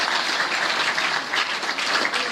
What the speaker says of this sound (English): So I think that's not only worth a clap